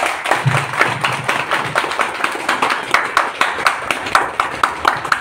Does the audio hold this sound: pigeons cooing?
no